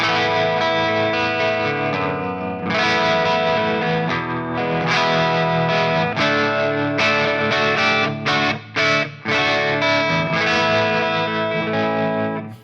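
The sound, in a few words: electric guitar through compressor into amp, Guitar Rig 7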